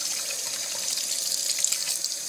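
Water pours steadily from a tap to fill a pet's bath, a close, bright, continuous splashing rush with no talking.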